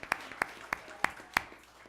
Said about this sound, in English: I'd like to give a big round of applause to Miss Reed, who has coordinated this whole thing